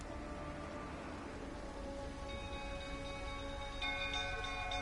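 Steady rain hissing in the Witcher 3: Wild Hunt video game, an even wash of drops across the whole stretch with faint tonal game music running underneath.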